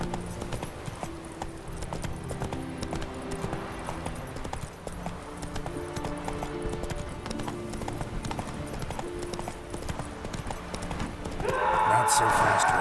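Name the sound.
horse galloping in the video game The Witcher 3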